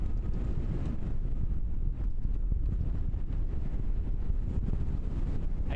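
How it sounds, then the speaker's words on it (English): Wind blows at Christchurch airport in New Zealand, buffeting the microphone with a continuous loud rumble and no voices. "Wind's picking up again."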